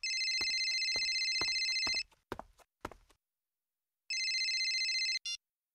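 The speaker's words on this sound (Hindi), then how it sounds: "इस सुनील को फोन करके देखते हैं, शायद वो अपना फोन उठा ले।" A phone ringtone trills loudly in a fast repeating electronic pattern for about two seconds, then a few knocks or footsteps follow, and after a pause the ringing returns once more before cutting off.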